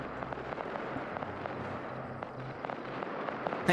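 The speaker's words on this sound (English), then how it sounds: "The UN using rocket artillery." Rocket artillery fires in a military video game, a dense steady rumble of launches and crackling blasts filling the whole span with a louder burst at the very end.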